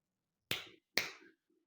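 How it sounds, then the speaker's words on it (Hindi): Two sharp finger claps made with the index and middle fingers struck together, crisp and close, about half a second apart in a quiet room. "अपनी प्रथम और मध्यमा उंगली से ताली बजाएंगे। 2 बार ताली बजाना है।"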